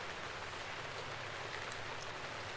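Steady rain in the Zelda video game, a dense, even hiss of falling drops with no breaks across the short stretch, fairly quiet and with no voices over it.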